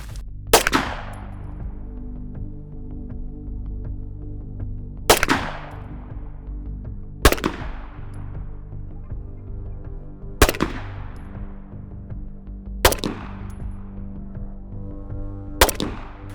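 Single pistol shots from a Stealth Arms Platypus 1911 firing Winchester 115 ammunition crack out one at a time, six loud, close reports spaced a few seconds apart, each ringing off into a brief echo with no voices.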